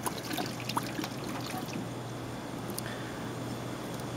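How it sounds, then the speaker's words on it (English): Beer poured into a crab pot already holding water, a quiet close trickle with a few soft splashes that settles into a faint steady stream. "Beer goes in."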